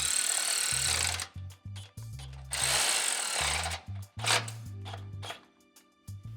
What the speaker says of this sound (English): we're going to go ahead and tighten the rest of the bolts all the way down.